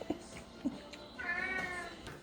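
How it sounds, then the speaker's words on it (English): A pet cat meows a few times in a home kitchen, two short chirpy calls followed by a longer drawn-out meow, fairly close and clear with no talking. "It's like a meow."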